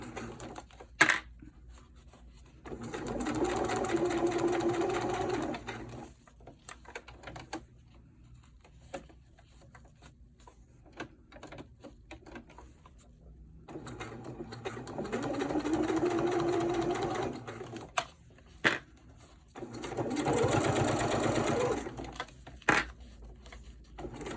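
A sewing machine stitches a French seam on a cloth diaper, running in three sustained whirring bursts separated by quieter pauses with scattered clicks and handling noises as the fabric is adjusted.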